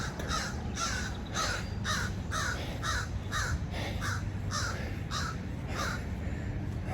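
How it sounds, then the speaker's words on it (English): Crows caw repeatedly in a steady rhythm, about a dozen harsh calls spaced evenly, clear and moderately close over outdoor background noise. "The crows are calling for me."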